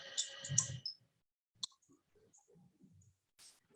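Mouse clicks during 3D modeling work on a computer: a few sharp, isolated clicks, one crisp tap standing out alone among faint desk and handling noises, with no voices.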